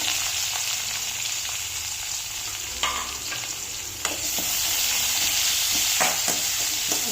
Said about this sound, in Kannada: ಸ್ವಲ್ಪ ಈರುಳ್ಳಿ ಗೋಲ್ಡನ್ ಬ್ರೌನ್ವರೆಗೂ ಫ್ರೈ ಮಾಡ್ಕೊಳ್ಳೋಣ